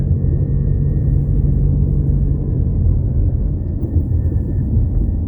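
A car drives along a residential estate road and makes a turn, heard as a continuous low engine and road rumble from inside the cabin, steady and fairly loud with no talk.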